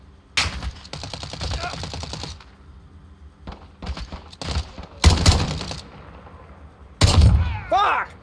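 Gunfire in Call of Duty Modern Warfare during a hardcore team deathmatch on the map Crash: loud, close bursts of rapid automatic fire in several volleys with short gaps, plus single sharp shots, alongside game sound effects.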